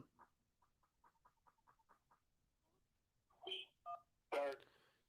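Telephone dialing tones on a call-in show line, a quick run of about ten short evenly spaced DTMF beeps, followed by a few louder connection tones, all faint and clear.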